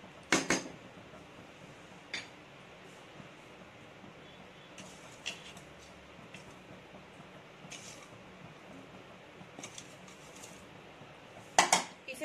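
Fried chicken pieces stirred into white sauce macaroni in a pan, a few sharp metallic clinks of a spoon against the pan over a faint, steady background, with a cluster of clatters at the start and near the end.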